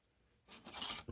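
Scissors snip through strips of patterned paper for a gift wrapping craft, a quick close cutting rasp following a quiet pause, ending in a short sharp snip.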